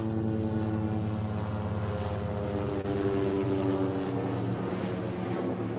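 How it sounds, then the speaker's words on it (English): Helicopter flying overhead near a railway, a loud continuous droning rotor and engine roar with steady low tones, sustained throughout without pause. "Or a helicopter, shall I say."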